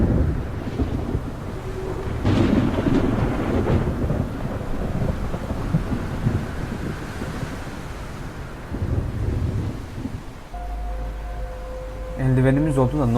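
A thunderstorm at sea in The Perils Of Man video game rolls on with heavy rumbling thunder, rain and wind, loud and continuous, with a few game tones near the end.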